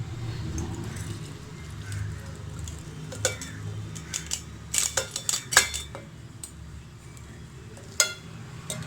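Metal spoon clinking and scraping against a pan while dried raisins go into sweet pongal, a scattered run of sharp clinks in the middle, close and fairly quiet over a low background hum.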